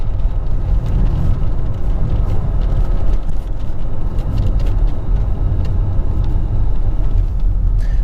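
An Audi 80 engine runs steadily while driving through the gears, reluctant to rev, giving a continuous low rumble with road noise throughout and no talk.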